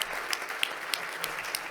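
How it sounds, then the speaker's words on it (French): Applause rises from the audience at a rugby awards ceremony, soft, distant clapping holding at an even level through a short stretch, with a few sharper claps standing out. "on vous applaudit"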